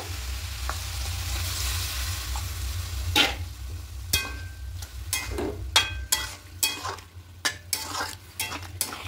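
Water hisses into a pan of frying potatoes and cabbage, leaving a soft sizzle under a run of sharp clattering stirs and spoon knocks against the pan in the second half.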